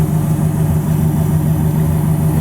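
Steady low rumble of a car idling through a fresh aftermarket exhaust, moderately loud and close, pulsing evenly without any voices over it.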